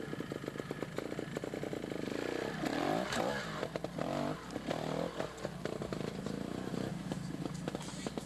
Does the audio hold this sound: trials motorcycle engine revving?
yes